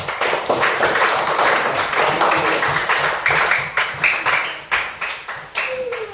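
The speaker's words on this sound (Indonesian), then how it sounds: "Tepuk tangan untuk kelompok 3." A group claps together in a classroom, a steady burst of applause lasting several seconds with individual claps audible near the end.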